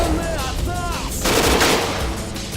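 A PPSh-41 submachine gun fires rapid bursts in a modded shooter video game. The crackle of automatic fire is dense and sustained over roughly two seconds, with fainter effects behind it.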